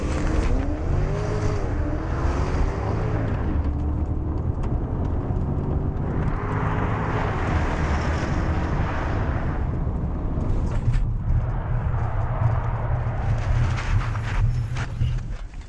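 A Porsche Panamera with four people on board accelerates hard, its engine roaring loudly and continuously and rising in pitch through gear changes as heard from inside the cabin.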